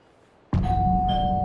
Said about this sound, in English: we'll just ring on the doorbell then